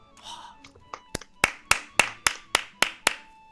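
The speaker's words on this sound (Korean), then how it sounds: "박수 한 번 칠까요?" A few people clap together about eight times in an even, slightly accelerating rhythm after finishing a mobile puzzle game, crisp close claps following a brief bit of talk at the start.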